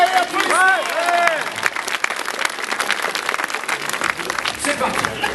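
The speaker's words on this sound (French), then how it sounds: "Je voudrais s'il vous plaît qu'on applaudisse dans cette super finale Kevin Aglaé, applaudissements." Crowd applause rises for a rider in the elite super final at a Clisson bike event, steady clapping mixed with cheers and a loud announcer voice over the top.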